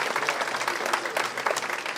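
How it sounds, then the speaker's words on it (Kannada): Audience applause at a 2024-25 lifetime achievement award ceremony, a dense, steady burst of many hands clapping for the five honorees, moderately distant and continuous for the whole moment. "ನಿಮ್ಮೆಲ್ಲರ ಅಭಿನಂದನೆಯ ಪ್ರೀತಿಯ ಚಪ್ಪಾಳೆ ಬರಲಿ"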